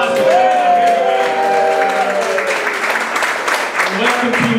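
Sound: audience applause

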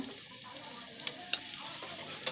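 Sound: stirring and frying fish curry spices with a spatula

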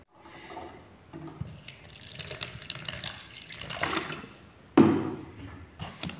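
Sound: water being poured onto calcium acetate powder

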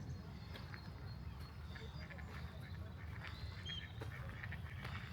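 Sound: ducks quacking at a large pond

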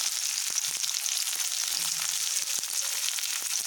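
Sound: onion, garlic and ginger frying in hot oil

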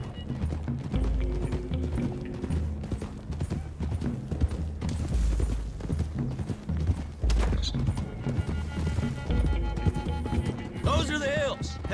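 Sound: horses galloping in Red Dead Redemption 2 video game

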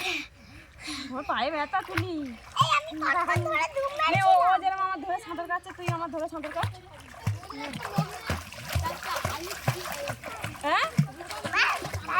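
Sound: children splashing and diving in a pond

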